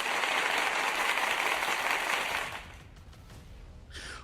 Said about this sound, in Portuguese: Uma salva de palmas do programa também para o Nicolas,